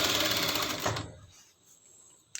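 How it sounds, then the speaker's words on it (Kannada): A sewing machine runs steadily, stitching strips of a child's frock together, then stops abruptly about halfway through, leaving quiet room tone and a small click at the end. "ಈಗ ನಾನು ಸ್ಟಿಚ್ ಮಾಡ್ತೇನೆ"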